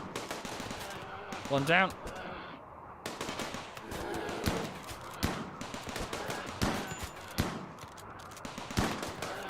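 Turrets and rifles open fire in RimWorld, with rapid bursts of sharp shots crackling in uneven volleys over several seconds while someone talks over the gunfire.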